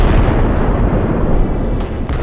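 Heavy, booming explosions in Qatar's capital Doha during an airstrike, a loud continuous rumble of blasts that fills the whole stretch with no talk.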